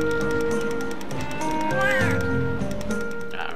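Cat meowing in the handheld game Monster Hunter Freedom Unite, a few short rising mewing calls over steady game music and ambient town sound.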